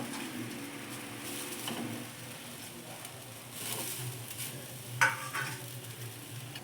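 Tamarind leaves fry lightly in a pan for a chutney, a soft continuous sizzle with faint stirring and one brief sharper knock.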